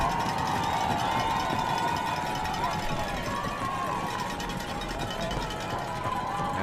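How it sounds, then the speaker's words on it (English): The Bonham home crowd rises and cheers at a high school district championship football game against Van Alstyne: a steady, dense wash of distant crowd roar that holds evenly throughout, with a voice talking over it. "The Bonham crowd comes to their feet."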